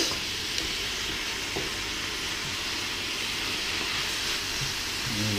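Beef stir fry with oyster sauce sizzles steadily in the pan as it is stirred, a loud continuous hiss of frying with faint scrapes of the utensil and no voices.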